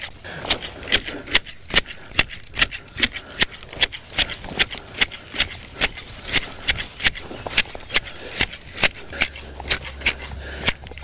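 Hand shears snip steadily while trimming a Japanese azalea, a fast regular series of sharp close metallic clicks, about two to three per second, with no talking.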